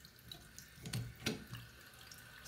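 A faulty tub and shower faucet keeps running, giving a soft, steady rush of water with a few faint splashy bumps.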